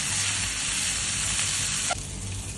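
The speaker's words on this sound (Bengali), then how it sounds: "মাছের মাথাগুলো ভাজা হয়ে গেছে" Rohu fish heads frying in hot oil give a steady, loud sizzle with bright hiss. Near the end a brief clink sounds and the frying drops slightly quieter.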